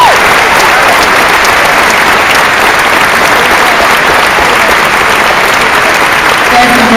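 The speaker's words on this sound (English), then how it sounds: "Please join me in a warm round of applause for John Landau" Steady, loud applause from a large audience at a film school graduation ceremony, continuous and unbroken throughout, with a faint voice briefly audible near the end.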